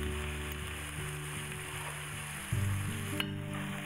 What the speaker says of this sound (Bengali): তারপর পেঁয়াজটা দিয়ে দিব। গরম হলে তেলটা